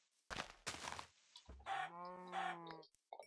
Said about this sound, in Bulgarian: Тия кокошки са просто в изобилие, ще кажа само.